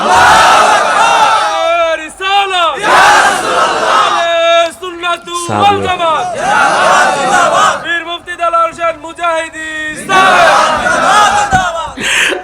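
A large crowd at a Bengali Islamic sermon by Pir Mufti Delwar Hossain Mujahidi roars 'Allah' in unison in answer to a takbir call, with loud, repeated massed chants rising and falling in waves.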